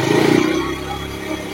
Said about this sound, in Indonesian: Coba gas lagi.